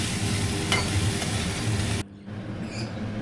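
Moong dal frying in oil tempered with cumin, bay leaf and dried chillies crackles loudly up close, then the sizzle drops suddenly to a quieter hiss with faint clinks.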